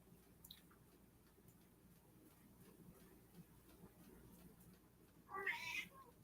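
A house cat lets out one short meow near the end, close but fairly soft, over a quiet room background with faint rustling and no talk.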